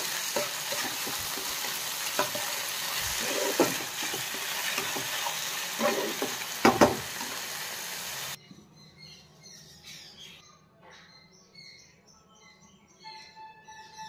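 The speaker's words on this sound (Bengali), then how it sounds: "আর এর মধ্যে এবার জল ঝরিয়ে রাখা গোবিন্দভোগ চালটাও দিয়ে দেবো।" Drained Gobindobhog rice sizzles in hot oil and ghee in a home kitchen pan while being stirred, a continuous frying hiss with utensil scrapes, which cuts out partway to quieter background with faint bird chirps.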